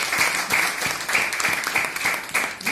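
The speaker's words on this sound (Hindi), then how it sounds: "तो मैं चाहता हूँ दुबई के लिए एक जोड़ा तालियां होना चाहिए।" Audience applause at a business leaders' meeting in celebration of a Dubai launch, a loud burst of many hands clapping in quick, uneven rhythm that keeps going for the whole few seconds.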